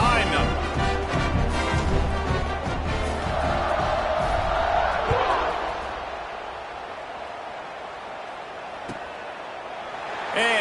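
A stadium crowd at a football kickoff roars and cheers in a dense, loud wash that gradually fades, with a commentator's voice over it.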